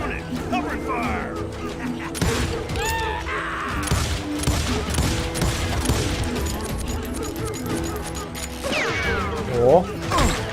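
Gunfire in the Western shooter game Call of Juarez: Gunslinger, sharp shots and crashes crowding a busy, loud battle mix, with shouted voices over the shooting throughout.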